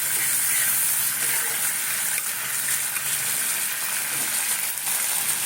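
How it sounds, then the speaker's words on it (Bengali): Chopped medium onion frying in hot oil, a loud, dense, continuous sizzle and hiss that stays steady throughout, close up with no speech. "এবার ওই তেলের মধ্যে পেঁয়াজ থেকে কোচানো পেঁয়াজ দিচ্ছি একটা মিডিয়াম সাইজের একটা কোচানো পেঁয়াজ"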